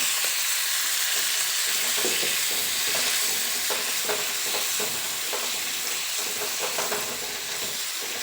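Chopped tomatoes with salt fry in a pan with a continuous, close hiss and sizzle, along with occasional soft stirring scrapes, and no voices over it.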